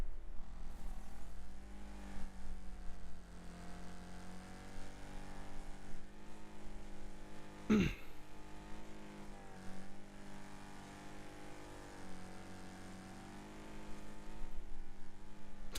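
Battered car in the Wreckfest racing game, front wrecked, engine dragging on the ground and a front wheel missing, drones steadily at close range throughout, its tone wavering, with one sharp clunk midway.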